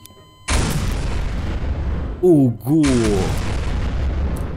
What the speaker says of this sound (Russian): Будьте внимательны, взрывы будут ближе.